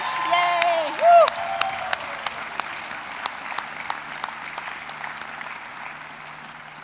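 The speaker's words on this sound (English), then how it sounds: "Graduates, please join me in applauding your families for everything they have done to make this celebration possible." Large stadium crowd applauding at the 2022 University of Michigan spring commencement, with whoops and a brief cheer up front, then steady clapping that gradually thins out across the venue.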